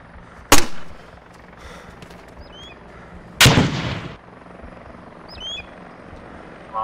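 Two sharp, loud explosions or gunshots crack in the ArmA 2 video game, each with a short rumbling tail, set against a quiet background hum.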